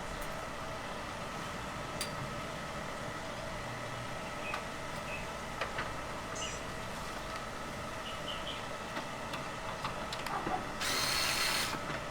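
A power tool whirs while grills are fastened back onto a mini split condenser, a steady mechanical hum running throughout with small clicks and ending in a short, harsher burst of higher-pitched noise.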